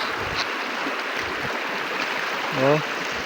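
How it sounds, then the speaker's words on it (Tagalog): A wide river flows with a steady broadband wash of moving water, fairly close and continuous, and a voice briefly speaks over it near the end. "Napakalawak na ilog guys."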